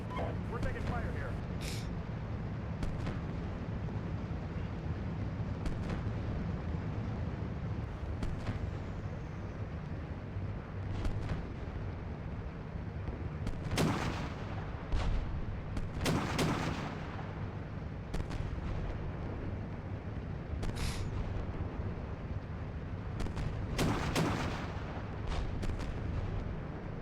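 Tank gunfire and artillery explode in the winter-storm battle of the Steel Beasts Pro PE military sim, with repeated booms and sharp cracks scattered over a steady rumbling background as voices talk.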